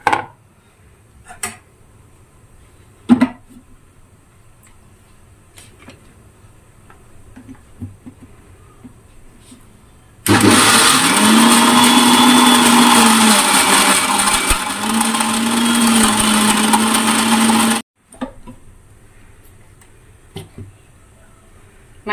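An electric kitchen blender grinds coriander powder, cumin powder and fenugreek powder into a smooth paste, a loud whirring roar lasting about seven seconds in the middle, with quiet clicks and taps before and after.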